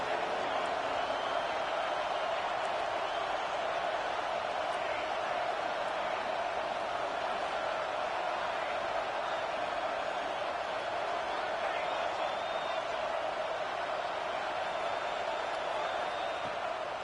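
An Auburn college football stadium crowd roars steadily on third down, a dense, continuous wash of cheering that stays loud and unbroken for the whole stretch.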